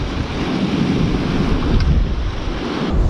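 Strong wind buffets the microphone on the sea shore in a steady roar, with surf washing underneath; continuous and loud throughout, with gusts swelling toward the end.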